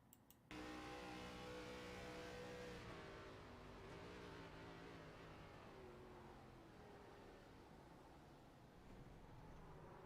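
An onboard view from an ARCA stock car racing at Talladega: a loud, steady engine drone fills the cockpit continuously, with its pitch shifting slightly as the car runs at speed.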